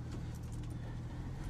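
A 1984 Ford F150 pickup rolls forward into a field, its steady low engine rumble and road-noise drone continuous and close, with a faint rattle of loose keys or trim over the hum.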